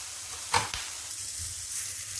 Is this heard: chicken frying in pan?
yes